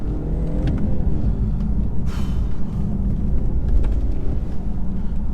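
A 2017 BMW 540i saloon accelerates at full throttle on the road. A steady, loud low engine and road rumble is heard from inside the cabin, with no talking.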